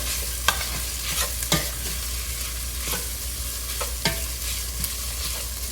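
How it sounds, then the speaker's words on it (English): Curry leaves fry in hot oil for a Sri Lankan tinned jack mackerel fish curry, a constant crackling sizzle broken by several sharp scrapes of a spoon stirring the pan. "Now I'm going to go in with our curry leaves."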